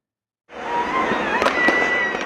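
Diwali fireworks in Delhi at night, a dense continuous crackle and hiss of bursts after a brief silence, with a few sharper pops standing out in the middle.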